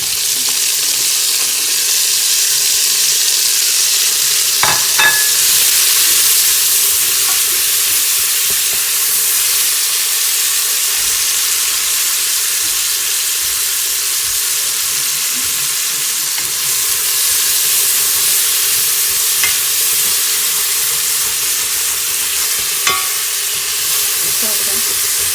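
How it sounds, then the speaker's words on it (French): Onions fry in a pan with a loud, constant close sizzle and hiss, with occasional scrapes and clinks of stirring. "par faire revenir les oignons"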